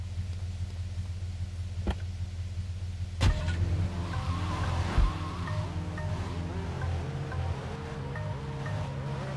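A car in Grand Theft Auto 3, played on a tablet, drives with a steady engine hum that rises and shifts, with a couple of sharp knocks partway through.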